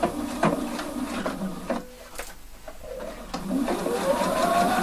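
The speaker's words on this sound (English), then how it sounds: "Now I'm stitching here 1 centimetre from the last stitch up" A sewing machine stitches a denim jeans button fly in short bursts of mechanical whirring, running close and fairly loud, with brief pauses between runs.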